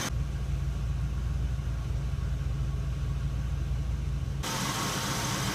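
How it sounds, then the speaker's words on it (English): An Oldsmobile 307 cubic inch engine idles steadily with a low, even rumble throughout, and a brief shift in tone near the end. "the engine is still running fairly decent"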